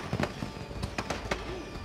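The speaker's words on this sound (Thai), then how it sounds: "อำลาด้วยภาพพลุนะครับฉลองนะครับ" Fireworks bursting over a theme park in Planet Coaster, several sharp crackling pops and booms in quick irregular succession over a steady bed of crowd and park ambience, no talking.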